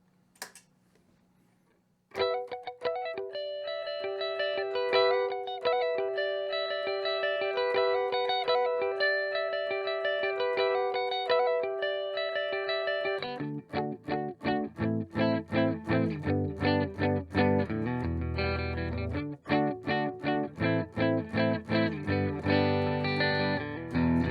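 An electric guitar plays a chord progression clean through a Lil Trees Synesthesia distortion pedal switched off, first sustained ringing chords, then a busier rhythmic strummed passage, loud and alone.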